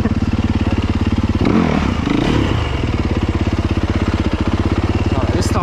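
Motorcycle engine running on an overgrown dirt track, a steady pulsing idle that briefly surges and clatters mid-clip before settling back into a loud, even thrum, close to the listener.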